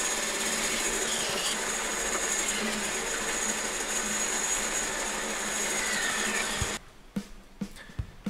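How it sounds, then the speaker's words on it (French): A band saw whines steadily as it cuts through mahogany, then stops abruptly, leaving a few clunks and small handling knocks. "Je commence par débiter grossièrement un morceau d'acajou à la scie à ruban."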